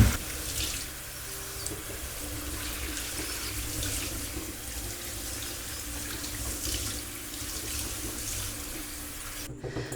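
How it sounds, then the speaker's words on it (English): Tap water runs steadily into a sink while the filter media cage of a Fluval FX6 canister filter from an African cichlid tank is rinsed, a constant close gush of water that cuts off at the end. "I'm going to give this a little bit of a rinse"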